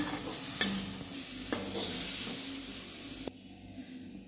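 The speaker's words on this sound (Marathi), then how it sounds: "टोमॅटो पण टाकून भाजूया मी।" Tomatoes being fried with a masala mix in a pan, with a steady hiss of sizzling and a few sharp utensil knocks as they are stirred, the sizzle dropping away near the end.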